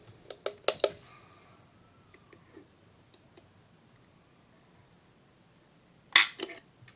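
A Grand Power Q100 pistol trigger pulled and released, giving a few sharp mechanical clicks near the start and another crisp metallic click burst toward the end, with quiet gaps in between.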